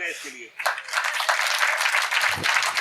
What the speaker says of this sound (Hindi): ताली हो जाए इसके लिए।